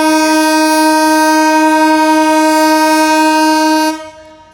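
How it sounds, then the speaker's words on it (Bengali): Madhumati Express train sounding a long, loud, steady horn with strong harmonic tones at the Rajbari railway station level crossing, held for about four seconds before cutting off abruptly. "আপনারা দেখতে পাচ্ছেন এই মুহূর্তে মধুমতি এক্সপ্রেস রাজবাড়ী রেল স্টেশনে"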